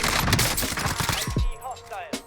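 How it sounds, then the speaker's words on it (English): Automatic AR rifle fire in the Warzone video game, a burst of rapid close gunshots packed into the first second and a half, followed by scattered game effects and one last sharp report near the end. "I'm gonna use my AR right here."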